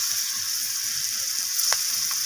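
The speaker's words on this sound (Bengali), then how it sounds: "তো সমস্ত কিছু মশলাকে এইভাবে একটু ভাজা ভাজা করে নিচ্ছি" Chili and cumin powder sizzle in a hot pan, a steady close hiss of spices frying without a break and with no voices.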